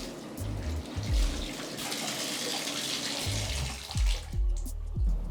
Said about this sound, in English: After a couple hours, I drained the bathtub, rinsed the fabric,